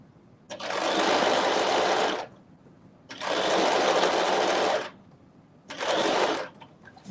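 Sewing machine running an understitch along a dress, three sustained bursts of steady whirring stitching separated by short pauses, close and clear.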